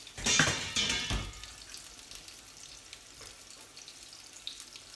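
Hot water poured and splashing as cooked linguine is drained, a loud rushing burst in the first second or so that fades into quieter dripping and trickling.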